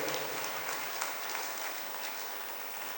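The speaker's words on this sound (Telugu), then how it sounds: "చాలా సప్పగా ఉన్నాయి మీ చప్పట్లు" An audience at a church feast claps together, a soft, even patter of many hands that holds steady throughout, somewhat distant and without speech over it.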